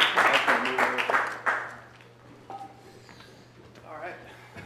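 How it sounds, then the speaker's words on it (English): Brief audience applause and clapping burst out loudly for about a second and a half, then die away, leaving a quiet room with a faint hum. "Can we give him a round of applause?"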